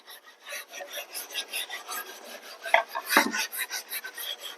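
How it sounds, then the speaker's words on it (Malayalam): A scrubber rubs over a wooden cutting board with salt and vinegar in rhythmic back-and-forth strokes, a close, gritty rasping that repeats steadily, with one heavier knock near the end. "നമ്മൾക്കിത് സ്ക്രബ്ബർ വെച്ച് നല്ലവണ്ണം അരിച്ചു കൊടുക്കാം"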